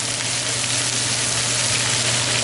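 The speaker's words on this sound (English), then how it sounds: "Give it a nice stir, make sure it's all coated with all the" Red cabbage coated in bacon fat fries in a pan with a steady, dense sizzle while it is stirred, loud and close throughout with no talking.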